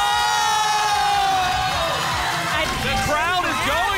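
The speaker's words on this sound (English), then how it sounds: "crowd is going wild!" Loud crowd cheering, whooping and yelling at a Just Dance 2017 dance tournament in a Microsoft Store studio in New York, with shrill excited voices rising continuously over the whole stretch.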